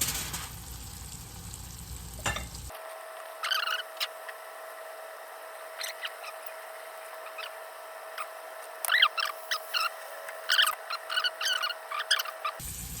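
Pork chops frying in a pan give a soft, steady sizzle with scattered small pops and crackles that grow busier toward the end, heard up close and alone.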